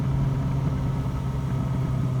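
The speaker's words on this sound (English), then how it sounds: "I'm guessing it's a big truck trying to brake for some reason" A continuous low droning hum comes from a big truck on the road, seemingly braking. It stays steady and fairly loud throughout, engine-like, with no voices over it.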